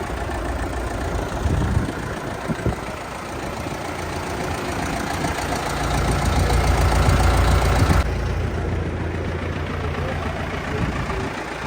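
KATA KE454 tractor engine running outdoors, a steady broadband rumble with a low knocking undertone that swells louder midway, fairly close and with no talking over it.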